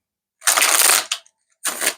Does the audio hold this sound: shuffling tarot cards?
yes